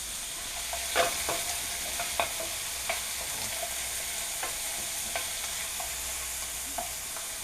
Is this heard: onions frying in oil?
yes